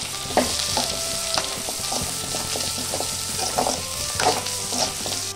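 Ground dry spice powder sautéing in a kadai for mutton curry, a steady close sizzle with frying crackle and intermittent scraping stirs throughout, no talk.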